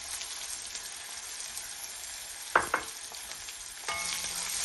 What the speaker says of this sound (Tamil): சேர்த்துட்டு வெங்காயத்தை நல்லா வதக்கி எடுத்துக்கிறோம்.